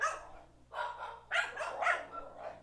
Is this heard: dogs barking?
yes